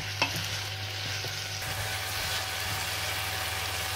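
Potatoes stirred and sautéed in sofrito in a cazuela with hake, a steady soft sizzle of frying running throughout with a faint scrape of stirring near the start.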